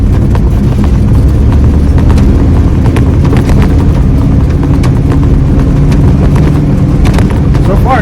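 A car with a Holley 4412S carburetor pulls away in second gear on a bumpy road, its low engine rumble steady and close, with irregular knocks and clatter throughout.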